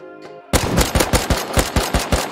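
A rapid string of loud, evenly spaced gunshots in the Rust game begins sharply after a brief tonal sound and runs about a dozen shots.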